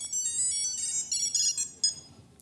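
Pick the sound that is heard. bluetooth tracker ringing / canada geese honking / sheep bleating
bluetooth tracker ringing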